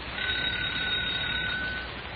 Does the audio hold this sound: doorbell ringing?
yes